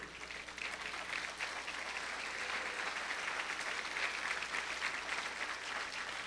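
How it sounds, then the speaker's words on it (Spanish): Sustained applause from a large church congregation indoors, dense and steady clapping that fills the whole stretch without letup. "Dale un aplauso al Señor."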